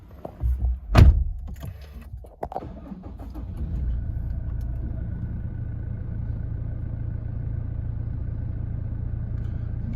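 A used Toyota Hilux with about 34,484 kilometres on it starts up with a sharp cranking burst, then settles into a steady, low engine idle that continues to the end.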